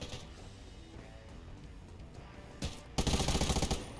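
Gunfire in the survival shooter Undawn aimed at the player: faint scattered shots at first, then a loud burst of rapid automatic fire near the end.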